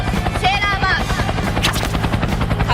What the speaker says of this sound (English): Random helicopter sound effects.